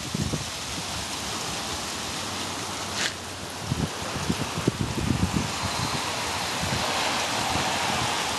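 Hail pours down outside in a dense, loud, continuous patter. Sharper scattered clatters rise above a steady hiss of impacts, with no voices.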